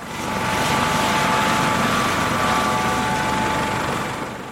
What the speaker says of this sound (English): now I'm going to head to Puerto Rico in my personal helicopter